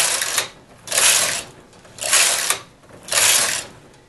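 A knitting machine knitting two rows, with the carriage sliding across the needle bed in three loud, whooshing, clattering passes separated by short pauses.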